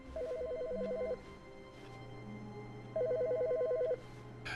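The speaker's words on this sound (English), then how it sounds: "A phone! Where?" A telephone rings inside the Stanley Parable video game, two electronic ring bursts of about a second each separated by a pause, fairly loud over a low ambient hum.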